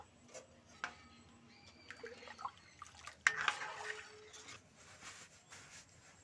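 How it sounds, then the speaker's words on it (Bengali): Moong dal cooked with a katla fish head boils in a pot, giving faint, scattered bubbling pops and drips at low volume with no speech. "ডালটা কিন্তু চারিপাশ দিয়ে খুব ভালো করে ফুটে উঠেছে বন্ধুরা।"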